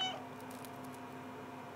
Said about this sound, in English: Oh look, so you meow